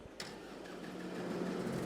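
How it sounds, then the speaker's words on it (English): A Valtra tractor engine in Farming Simulator 22 starts with a brief clank and then settles into a low, steady rumble that grows slightly louder. "we'll get our Valtra tractor to do that, just because these tractors have wide tires on it"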